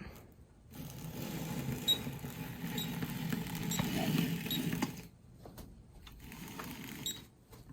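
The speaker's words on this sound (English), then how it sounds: "I'm going to send it to the printer." A Colop e-Mark Create handheld printer whirs and buzzes mechanically with faint clicks, running in bursts with brief pauses, close and fairly quiet.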